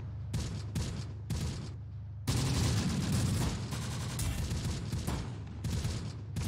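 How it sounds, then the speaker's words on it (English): In the World War II tactics game Close Combat: The Bloody First, artillery and gunfire rumble in dense, overlapping bursts. The booms and rattling volleys come in loud waves with brief gaps, and no voices can be heard. "Comes the artillery."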